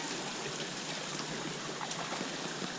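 Floodwater from monsoon rains pouring into a chapel: a steady rushing, splashing wash of flowing water, close and continuous, with no talk.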